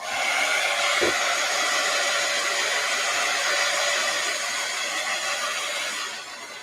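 A hair dryer blows in a loud, steady whoosh to dry an art journal page, running evenly before dropping off near the end.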